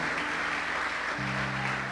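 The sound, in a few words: church congregation applauding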